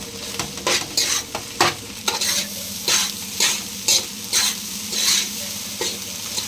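Egg fried rice with soy sauce tossed in a hot pan, loud bursts of sizzling as the spatula scrapes and turns the rice in quick, uneven strokes, up close with no voices.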